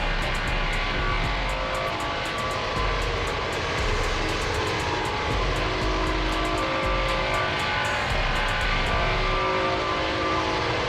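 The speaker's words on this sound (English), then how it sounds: "comes with the Pratt & Whitney and the Rolls-Royce engine sounds" Steady, loud drone of Pratt & Whitney or Rolls-Royce jet engines from the Mango Studio sound pack in X-Plane 12, a continuous roar with a faint tonal whine holding without pause.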